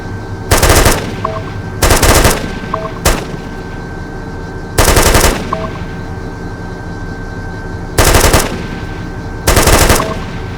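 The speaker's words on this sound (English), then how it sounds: "Here I am in the mounted gun on my favorite vehicle, and it was a terrific way to just shoot enemies" Vehicle-mounted machine gun in the ARMA 3 video game firing several loud, dense bursts of rapid shots, each lasting under a second, separated by pauses filled with a low engine-like hum.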